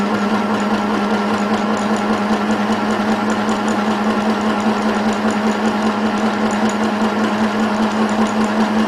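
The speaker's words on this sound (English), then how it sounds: "I'm just going to wind the bobbin maybe a third of the way" Janome Sew Mini sewing machine winding a bobbin, a steady fast mechanical whir with a constant hum and fine rhythmic clatter, close and continuous for the whole stretch with no talk.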